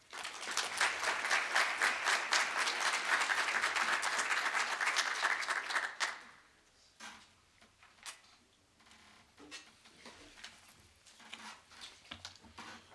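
An audience at a workforce talent session applauds to welcome a speaker, a loud, dense burst of clapping that lasts about six seconds, then dies away into faint scattered room noise.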